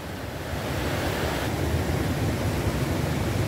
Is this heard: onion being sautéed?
no